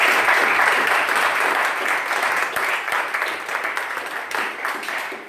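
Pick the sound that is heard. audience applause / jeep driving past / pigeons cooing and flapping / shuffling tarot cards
audience applause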